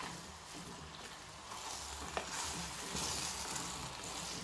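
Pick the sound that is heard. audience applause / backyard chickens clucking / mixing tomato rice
mixing tomato rice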